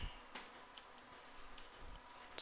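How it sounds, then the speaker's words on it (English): Quiet, sparse clicks of keys on a computer keyboard as commands are typed, a few light taps spaced irregularly, close and faint. "We type"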